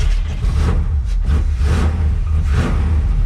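A 1983 Toyota 4Runner engine runs loud and close on a chilly morning, rising and falling through several rough revs with a deep rumble underneath.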